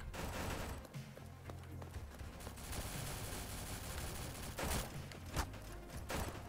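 Gunfire in the video game Mayday: quiet, rapid bursts of shots over a continuous background din, with a few sharper cracks standing out near the end.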